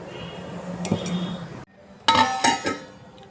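A metal kadai pan is set on a stove with a ringing clank, followed after a brief pause by further metallic clinks and rattles of cookware, close and fairly loud.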